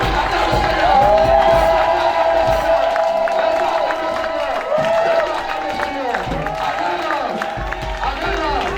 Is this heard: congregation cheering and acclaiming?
yes